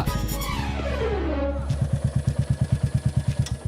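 A new motorbike engine revs and falls away, then settles into a steady, rapid put-put idle, close by, with brief speech at the start.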